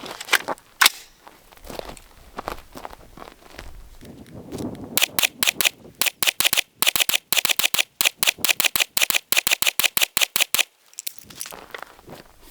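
Rapid gunshots from an AR-15 rifle carrying a Harbor Freight weapon light, loud and close, starting as a few scattered shots and then a long run of evenly spaced shots for several seconds, with no talking.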